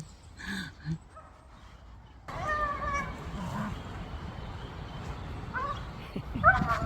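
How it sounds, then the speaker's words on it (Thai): A dog whimpers and yips outdoors in a garden, giving several short, high, whining cries over a steady background hiss. "หมามัน ร้องไห้แล้ว"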